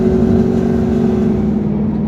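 Car pulling off the track at Texas Motor Speedway, a loud, steady engine drone heard from inside the car with a constant low hum throughout.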